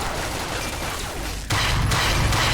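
Gunfire in Fallout: New Vegas during a fight with a named super mutant: a dense, loud barrage of rapid shots running throughout, jumping to an even heavier burst partway through.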